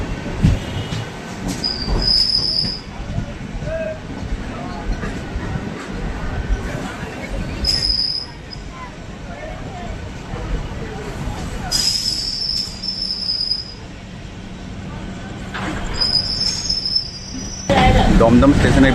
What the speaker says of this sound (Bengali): এই মুহূর্তে আমাদের ট্রেন প্রবেশ করছে তার প্রথম হল দমদম স্টেশন